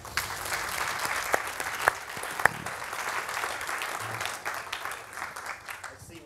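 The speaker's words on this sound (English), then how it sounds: "Applause please for the enigma of Dallas Campbell." Sustained applause from a live audience greets host Dallas Campbell at a FameLab International science communication semi-final, a dense, steady wash of clapping lasting several seconds with a few sharper claps standing out.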